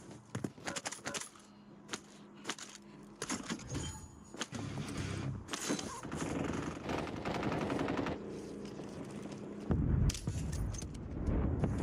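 Call of Duty gunfire comes in rapid automatic bursts and scattered single shots, with clattering and metallic rattles between them and a busy game-sound bed beneath, moderately loud and without talking.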